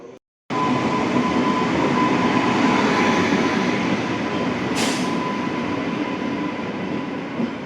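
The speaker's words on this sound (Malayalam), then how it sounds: "ട്രെയിൻ വരികയാണ്." A delayed passenger train pulls into a Goa railway station. After a short quiet gap, its loud, steady rumble rolls in close and continues, with one brief high squeal partway through and no talking.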